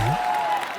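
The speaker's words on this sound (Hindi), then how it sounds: "इसको ताली बोलते हैं, ताली।" Audience clapping on a TV comedy entertainment show, a brief dense burst of applause from a studio crowd with a tonal hum running underneath.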